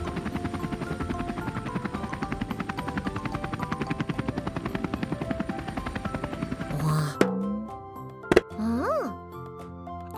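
A cartoon helicopter whirs with a fast, steady rotor chop for several seconds, then stops and gives way to plinks and rising sliding tones. Nearby dialogue overlaps.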